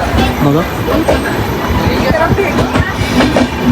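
A passenger train pulls out of Veraval station in Gujarat at night, heard from inside with steady loud rumbling, rhythmic wheel clatter and occasional squeals, while a voice speaks briefly over it.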